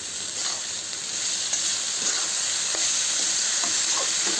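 Onions browning in a pan give off a steady, even sizzle with faint intermittent stirring scrapes, continuous and close throughout.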